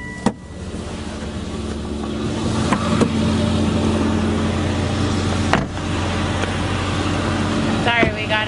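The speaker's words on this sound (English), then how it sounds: "we got a diesel truck behind us now" Steady low rumble of a diesel truck following close behind a moving 2004 Volvo, heard from inside the car as continuous road and engine drone with a few brief clicks and knocks.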